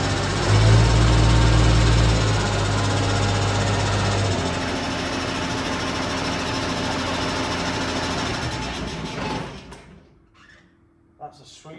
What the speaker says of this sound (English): That's a sweet sounding engine, isn't it?